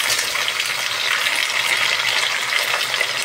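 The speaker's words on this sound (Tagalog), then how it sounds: "At ilagay na natin para maprito-prito siya." Steady, loud sizzling and crackling of pork pata frying in a pan, continuous with no voices.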